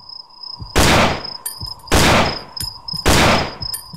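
Three loud, close gunshots from the horror video game Cry of Fear ring out about a second apart, each with a long roaring tail, over a constant insect-like chirping ambience.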